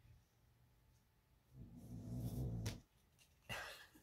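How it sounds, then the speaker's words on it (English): A sleeping dog snores nearby, giving one soft, low rumbling breath that swells and fades, followed by a brief quieter snuffle in an otherwise quiet room. "I don't know if you can hear my dog snoring, but she is really snoring"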